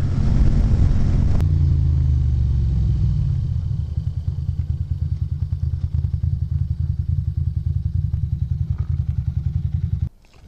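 A Ducati 900SS motorcycle riding on a rippled, frozen, bumpy road makes a loud, close engine drone, with a rapid pulsing throb under steady rumble and jolting thuds, which eases off toward the end.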